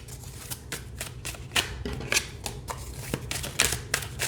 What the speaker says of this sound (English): And it shuffles beautifully here as well.